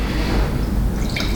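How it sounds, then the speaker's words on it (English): Signatory Vintage cask strength whiskey pours into a glass in a short, close, steady trickle, with no talk over it. "I'll pour it in here for you to make it a little easier."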